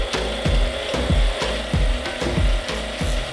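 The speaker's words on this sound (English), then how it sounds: "we're sanding it with 400 grit all the way to 1500 grit to ensure that it's as shiny and smooth as possible" A copper knurled ring is sanded by hand with fine sandpaper, 400 up to 1500 grit, in a steady back-and-forth rasping rhythm of repeated close strokes about twice a second, with no talking.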